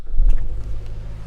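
Engine of a 2014 Chevrolet Cruze sedan with a low, steady rumble close by, swelling slightly near the start and then settling into an even hum.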